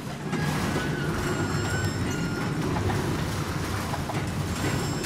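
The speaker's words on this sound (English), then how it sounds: "Ugh, subway cars are so heavy." A heavy subway car is shoved along its track with the brake left on in the video game Darksiders. It gives a steady loud metallic rumble with thin screeching squeals over it and no pause for the whole stretch.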